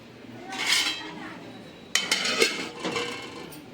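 A lid goes onto a pot of Malvani bangda fish curry with a couple of sharp, close metallic clanks and a rattle, separated by a short pause.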